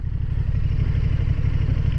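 A KTM 1290 Super Duke R motorcycle engine rumbles steadily and loud while the bike turns, a dense low drone with a rough, pulsing texture and no voices.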